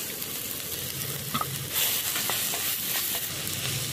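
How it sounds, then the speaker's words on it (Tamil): Tomatoes, chilies, curry leaves and fried egg sauté in a pan for Maggi noodles, a steady close sizzle with occasional spatula scrapes and taps, no talking. "பொரிச்சு வச்ச முட்டையில் பாதி முட்டையை சேர்த்து வதக்கிக்கலாம்"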